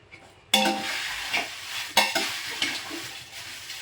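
Dry red chillies roast in a pan, a sudden burst of sizzling with crackle and repeated stirring scrapes against the metal, loud and close.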